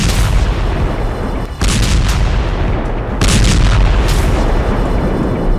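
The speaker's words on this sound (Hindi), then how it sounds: "यह रूस का फास्फोरस बम है जो बेहद घातक है" Russian phosphorus bomb strikes in wartime Ukraine, loud sustained rumbling blasts filling the whole clip, with two sharp cut-offs as fresh booming bursts take over.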